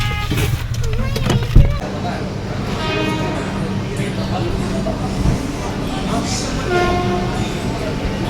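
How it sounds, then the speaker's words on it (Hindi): A train stands at a station platform on a journey from Lucknow to Kanpur, with a steady low rumble and bustle filling the scene, a brief thump near the start and faint announcements or voices in the background. "ये देखो सामने ट्रेन खड़ी हुई है"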